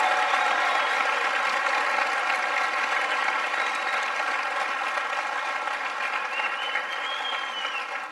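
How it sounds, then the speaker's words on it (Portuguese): Sustained applause from an audience at a talk, a dense steady roar of many clapping hands that holds evenly throughout and fades slightly at the end. "então receba essa salva de palmas"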